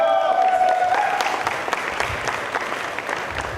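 Audience applause fills a student research poster session, a dense burst of clapping that starts loud over a fading tone and gradually thins out, with a few scattered voices.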